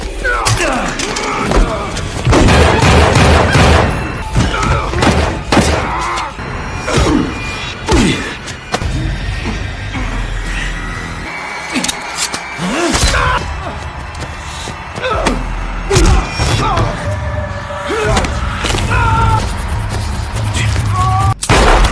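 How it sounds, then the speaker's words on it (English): Gunfire in a crime action film scene: a series of loud, booming shots and heavy thuds in irregular bursts, with clattering mechanical impacts between them and occasional dramatic background sound. "Just as Leslie reveals herself by shooting Carlson with a firearm she had hidden under the table."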